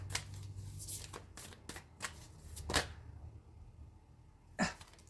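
Tarot cards are shuffled by hand for a draw, a rapid series of soft riffling snaps and flicks that thin out, then a final sharp slap near the end, quiet and close.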